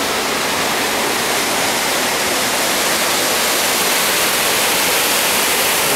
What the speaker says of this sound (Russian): Водопад. Водопадище. Топсом Фомид.